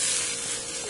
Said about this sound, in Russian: Размешиваем.